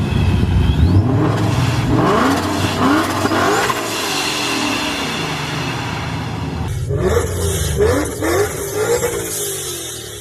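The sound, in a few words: supercharged car engine with blow-off valve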